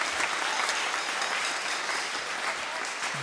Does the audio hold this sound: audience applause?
yes